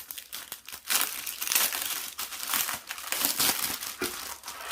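Close, crinkly rustling and tearing of the plastic packaging of a leather-craft pencil case kit, with irregular bursts of crumpling throughout and no voices.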